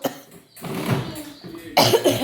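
Several harsh coughs from a person with a cold, in quick bursts, close by, with a short pause between them and a final louder fit of coughing.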